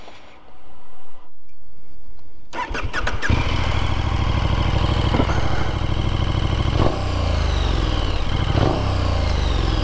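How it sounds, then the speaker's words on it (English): A KTM Super Duke motorcycle on its stock exhaust cranks and fires up after a quiet moment, then settles into a loud, close idle broken by a few sharp throttle revs. "here is the sound of the Super Duke stock exhaust"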